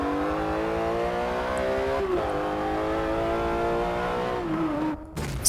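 Porsche 911 GT3 RS engine in a racing video game on the Nürburgring, revving hard and continuously through rising pitches with gear shifts, loud and close, ending with a brief drop-off.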